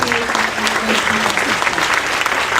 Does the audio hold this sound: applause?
yes